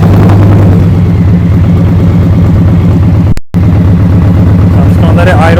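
A 2023 Indian Pursuit Elite motorcycle fitted with a Tab Performance exhaust idles close by in a loud, steady, deep rumble, briefly cutting out for a moment midway, with faint voice-like sounds near the end.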